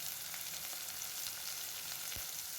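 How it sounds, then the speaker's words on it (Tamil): Curry leaves hit hot oil with frying onions, giving a steady, dense sizzle and crackle. It is close and faint, and nobody talks. "நான் 2 கொத்து வந்து கருவேப்பிலை சேர்க்கிறேன்."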